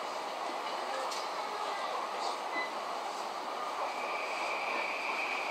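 A JR Yamanote Line commuter train runs with a steady, unbroken rumble and rushing hiss, faint rail squeals rising now and then over the constant noise.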